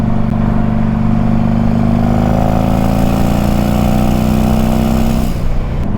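Harley-Davidson Turbo Road King motorcycle engine running on a test drive, a loud continuous low rumble that holds steady with a slight rising pitch before dropping off near the end, close and alone without talk.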